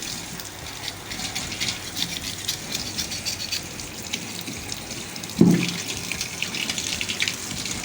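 Cow and goat trotters are washed under a running tap, a constant splashing gush of water with a brief thud of handling midway, close and loud, with no speech.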